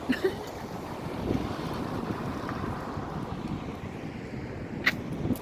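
Strong wind buffets the microphone by the water in a harbour town in Iceland, a steady roaring gust with a faint lapping wash and a few brief distant bumps.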